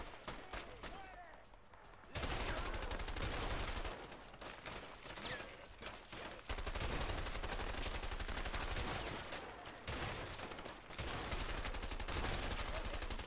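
Heavy enemy gunfire aimed at the player in the game A Way Out, dense sustained volleys of shots that come in several loud stretches with brief lulls between them.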